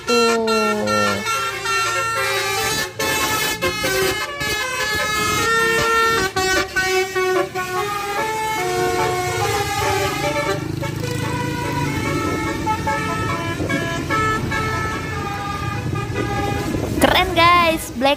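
Tour buses in Pangalengan sound loud, melodic basuri horns, with sustained musical tones that change pitch over engine rumble from the passing convoy.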